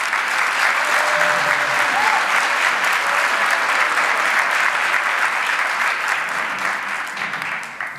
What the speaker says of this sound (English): Please give a warm round of applause and welcome to Cook County Board President Toni Preckwinkle.